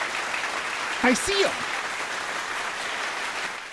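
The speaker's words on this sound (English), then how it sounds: "Let's clap. Let's do a little clap." A small group claps lightly and continuously in the background while a voice speaks briefly over it.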